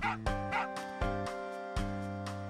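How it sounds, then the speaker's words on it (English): A dog barks from inside a pet shop in the Final Fantasy VIII video game, a few yappy barks repeating at a steady pace over a sustained game music tone. "You can literally hear his dog barking in the pet shop."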